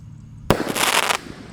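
One close, loud crack from the final shot of an eight-shot roman candle firework, followed by a hissing, crackling burst of about a second that fades quickly.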